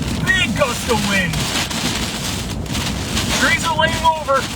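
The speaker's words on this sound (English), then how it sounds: "Gust of wind." A strong storm wind gust during a hurricane chase roars steadily against the microphone, with a voice talking over the buffeting.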